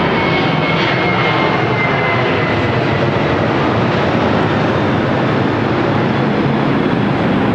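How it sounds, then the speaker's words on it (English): Airplane taking off and passing overhead near an air memorial, a loud, steady roaring engine drone that fills the whole stretch without fading, heard with no talking. "Let's see the airplane taking off. I just now can hear it."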